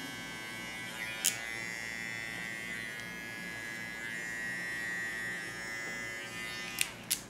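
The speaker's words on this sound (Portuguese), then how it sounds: "Vou passar o pente 1 aqui atrás também, ó." An electric hair clipper with a number 1 comb guard hums steadily throughout, close by, trimming the back of a boy's head, with a couple of short clicks near the start and end.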